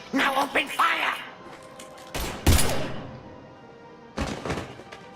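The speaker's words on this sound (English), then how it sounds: "Now open fire!" Gunfire in Mass Effect 3, with a few scattered shots and bursts spread across the clip, some close and punchy, mixed with game voice dialogue at the start.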